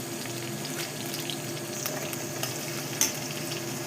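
Onions and spices fry in hot oil in a pan while being stirred, giving a steady close sizzle with scattered scraping clicks from the spoon and one sharper knock near the end.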